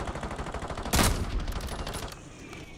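Rapid automatic gunfire rattles through a video game shootout as several players fire at a downed opponent on a rooftop, with steady bursts and a louder, denser volley near the middle.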